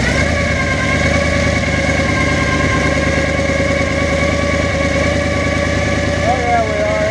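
A 1979 Ford engine idles steadily at close range, a loud continuous rumble with a faint rising whine near the end.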